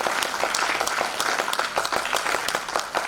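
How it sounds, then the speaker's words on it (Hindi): A large crowd at an anti-tobacco conclave in Bhopal applauding loudly, dense sustained clapping filling the hall without pause. "एक बार इसके लिए जोरदार ताली बजा करके स्वागत करें।"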